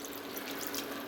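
Water poured from a cup into a cooking pot of beef hot pot with fresh thyme, a steady broadband rush of liquid lasting about a second, close and moderately loud with no talk.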